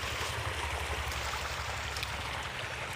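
Irrigation water flows steadily through a field of leafy greens in a jujube orchard, a constant close rushing wash with no voices.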